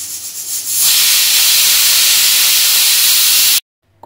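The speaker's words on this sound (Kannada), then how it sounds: "ಕುಕ್ಕರ್ ಕೂಡ ಕೂಗಿದೆ ಮತ್ತು ತಣ್ಣಗೂ ಕೂಡ ಆಗಿದೆ." A pressure cooker of tomato bath lets off a loud, steady rush of venting steam that hisses for about three seconds, then cuts off abruptly into near silence.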